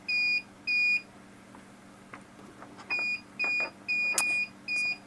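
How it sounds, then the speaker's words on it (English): Repeated electronic beeps in short evenly spaced bursts, two early then four more after a pause, steady and moderately loud against a quiet hum. "we have some beeping in the background"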